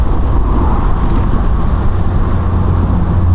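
A 1971 Mk2 classic car with a six-cylinder engine cruising on rural Suffolk roads, giving a steady low engine drone and road roar from inside the car, with no talking.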